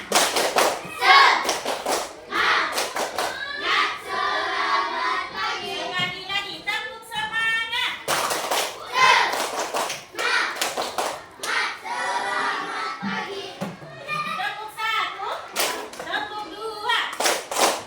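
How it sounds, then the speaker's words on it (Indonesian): Children in a classroom perform a rhythmic spirit clap, bursts of patterned hand claps alternating with chanted voices and a teacher's speech, close and lively with thumps and taps mixed in. "Tepuk semangat."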